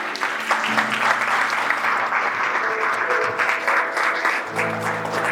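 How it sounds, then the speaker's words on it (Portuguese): Steady applause from a church congregation, dense clapping that holds evenly for several seconds, with faint background music tones underneath. "Você pode dar um aplauso a ele?"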